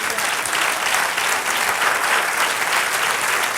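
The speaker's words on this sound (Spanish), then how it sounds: "Sí, dale un aplauso." A church congregation claps steadily throughout during a Spanish-language sermon, a dense, even wash of applause with no voices standing out.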